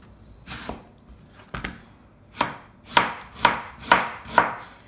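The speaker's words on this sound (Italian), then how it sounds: "Vado a tagliare la cipolla" A knife slices a Tropea onion thinly on a cutting board, giving close, crisp chops that start sparse and then settle into a regular run of firm strokes.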